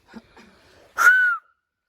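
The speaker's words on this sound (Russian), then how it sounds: "А меня научили свистеть ладошками" A short breathy murmur, then one clear rising-and-falling whistle blown through cupped hands, lasting under half a second.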